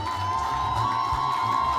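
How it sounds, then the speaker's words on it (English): Family members, aunties, uncles and cousins, cheer and shout continuously at an apartment handing-over ceremony on Howard Avenue, a steady crowd roar over a sustained tonal hum. "A whole set of family members are here to cheer on Mr."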